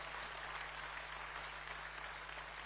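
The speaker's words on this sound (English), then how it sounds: "Shall we give our national chairman another rousing round of applause?" Crowd applauding a national party chairman at a political state-of-the-nation address, a brief, even wash of clapping heard at a distance over a low electrical hum.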